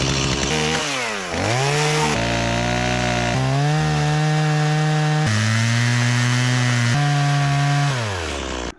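A chainsaw cuts low through a tree trunk at a cabin, running loud and close throughout, its engine pitch dipping and rising as the bar bogs into the wood, with no voices.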